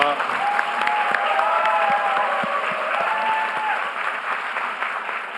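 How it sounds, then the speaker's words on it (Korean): Crowd applause fills a Jeju town hall meeting, dense and sustained with a few louder individual claps near the front, lasting the whole stretch and tapering slightly at the end, with voices faintly mixed in. "박수로 더 크게 쳐주세요."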